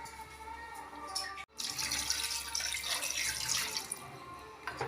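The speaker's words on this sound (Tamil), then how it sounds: "மட்டன் வேகிற அளவுக்கு தண்ணி சேர்த்துக்கலாம்." Water pours into a pot of mutton being cooked for biryani, a steady splashing flow with a brief break, fairly close and alone.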